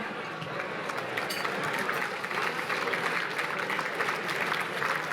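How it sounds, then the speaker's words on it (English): Applause from the audience at the City of Newport Beach 41st Annual Mayors Dinner, a steady dense round of clapping from a room full of diners that holds evenly through the whole stretch. "So a big round of applause for them."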